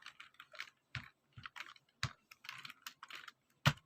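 Keystrokes on a computer keyboard, close and clear, coming in uneven bursts of taps with short pauses and one heavier strike near the end.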